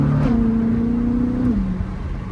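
A Chevrolet C8 Corvette with an aftermarket exhaust spins its wheels, its engine holding a loud, steady droning note that steps up, hangs, then drops away as the car pulls off into the distance.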